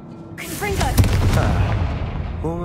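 In Hogwarts Legacy, a spoken Confringo fire blast spell lands as one sharp explosive boom, then fades into a rumbling, crackling tail. Voice-like tones rise and fall around the blast.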